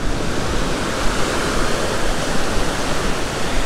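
Ocean waves washing over a sandbank on a surf-fishing beach make a steady, dense roar of broadband white water, loud and continuous with no voices.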